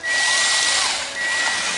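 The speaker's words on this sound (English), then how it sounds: "Be a bit more careful drilling these holes, because you could tear it" A power drill whines loudly and steadily, dipping briefly in pitch as it bites into a metal exhaust pipe, then ramping back up.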